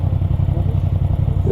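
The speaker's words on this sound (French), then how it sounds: "c'est le shifter" Motorcycle engine running steadily and loudly up close, a brief interruption of the drone marking a quickshifter gear change on a Yamaha MT-07 or Triumph Trident 660 middleweight naked bike, with wind and road rumble throughout.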